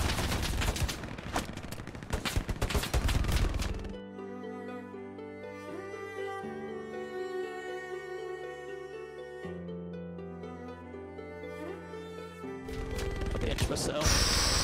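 An MG42 machine gun rattles in Hell Let Loose with fast, dense bursts at the start and again at the end, and a calm musical stretch in between, while voices talk.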